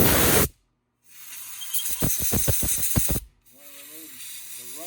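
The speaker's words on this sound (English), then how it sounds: "get a blowgun and blow out your bolt holes" Compressed air blowgun clearing bolt holes on a 2002 Chevy GMC 1500 5.3 during a water pump job: a loud burst, a pause, then a rapid series of short pulsed air blasts, followed by a quieter mechanical hum.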